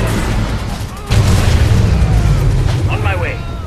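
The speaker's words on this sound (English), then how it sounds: "Nuclear missile launched." A nuclear missile launch explosion in the video game C&C Rivals: a heavy boom hits about a second in and then a loud, sustained rumbling roar continues, with faint higher whistling tones near the end.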